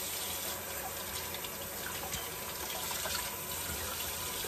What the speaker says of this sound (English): okay, so the water's going to be running